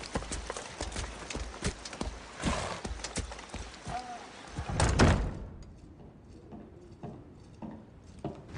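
Rhythmic hoof clip-clops ring out over a busy background for about five seconds, then fade to quieter, sparser steps.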